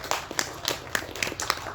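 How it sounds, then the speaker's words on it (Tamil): A small audience at a Tamil movie audio launch claps sparsely, giving a thin run of separate hand claps at a moderate distance in a hall. "இவ்வளோ சொல்லியும் கைத்தட்டுன அந்த 15 பேருக்கு மட்டும் நன்றி"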